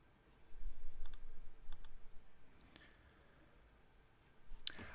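Computer mouse clicks during setup of ExpressVPN firmware on a Linksys router, a few sharp separate clicks close by over a quiet room with faint background rumble, with no talking.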